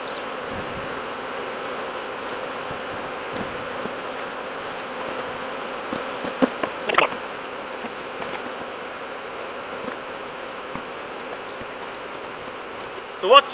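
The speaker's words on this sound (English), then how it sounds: "I take a few frames out, somewhere around the middle, and shake the bees into that box as well." Honey bees swarm around an opened hive after frames are shaken into a box, a steady dense droning hum that carries throughout, broken by a few faint knocks and a sharp click near the end.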